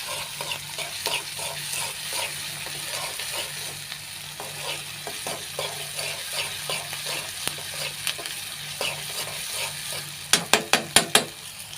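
Maggi noodles cooking in a pan at home, with a steady sizzle under a regular, repeated scraping of the stirring spoon, ending in a few louder, sharp clanks against the pan.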